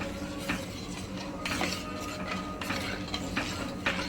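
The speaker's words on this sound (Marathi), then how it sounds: "हे सगळं मिश्रण आपण चांगलं ढवळून घ्यायचं" A utensil scrapes and clinks against a pot while stirring a tamarind chutney mixture, giving repeated knocks and scraping strokes at an uneven rhythm, close and moderately loud.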